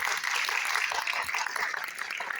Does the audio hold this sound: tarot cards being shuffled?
no